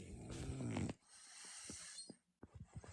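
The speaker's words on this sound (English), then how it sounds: "He's snoring." A dog named Tony snores at close range: a long rasping snore, then a quiet pause, followed by a few short snorts and wheezy breaths, with no voices.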